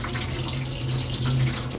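Water pouring and draining out of a collapsible cutting board tub, a steady splashing gush like a running tap, continuous and fairly close.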